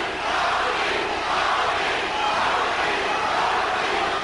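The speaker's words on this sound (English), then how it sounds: "The crowd chanting for Tommy Hearns." Boxing arena crowd during the ninth round of a WBA light heavyweight title fight chanting for Tommy Hearns, a dense, steady roar of many voices sustained throughout with no single speaker standing out.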